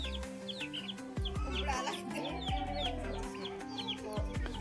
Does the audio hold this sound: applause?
no